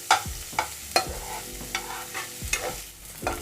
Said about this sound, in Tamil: இந்த ஆனியன் நல்லா ஃப்ரை பண்ணிங்க